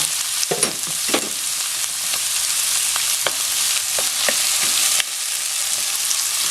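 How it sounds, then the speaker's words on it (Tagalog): Onion and tomato sizzle and fry in a pan for arroz valenciana, a steady bright hiss with occasional stirring scrapes and clicks, close and continuous without speech. "Okay, medyo lutuin lang natin itong kamatis."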